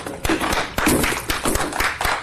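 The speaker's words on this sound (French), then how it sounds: "on peut s'applaudir très fort" Children at a school clap for themselves after playing music together, a brisk, uneven burst of many small hands clapping close by for a couple of seconds.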